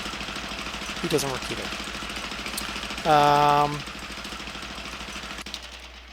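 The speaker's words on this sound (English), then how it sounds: "Can I turn the engines off?" A Wright Flyer's engine runs steadily in a flight simulator game, a low throbbing drone beneath someone talking, with a brief louder tonal sound partway through.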